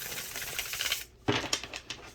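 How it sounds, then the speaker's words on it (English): Playing cards being shuffled, with a dense riffling rustle in the first second, a brief pause, then several sharp snapping bursts as the deck is bridged and tapped, close and moderately loud. "I'll go ahead and shuffle a few more times here."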